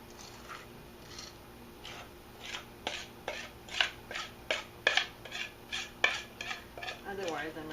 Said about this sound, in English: Get all our chocolatey goodness in the pan.